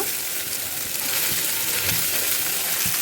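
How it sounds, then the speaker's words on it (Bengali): Prawns sauté in a pan with steady, close, loud sizzling and frying throughout, with occasional faint stirring noises and no talk. "চিংড়িগুলোকে একটু ভালো করে কষিয়ে নিচ্ছি"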